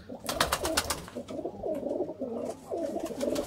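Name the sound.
golden pigeon cooing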